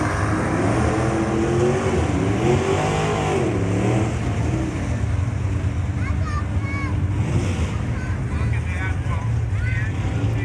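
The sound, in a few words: 1966 Chevelle muscle car accelerating down drag strip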